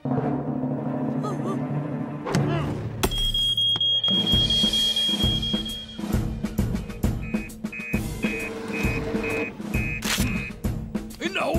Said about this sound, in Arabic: إنذار كاذب آخر بالتأكيد